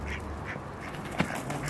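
Ducks running loose in a farmyard in northern Shaanxi as someone tries to catch them, giving several quick quacks spread across the moment over a faint background.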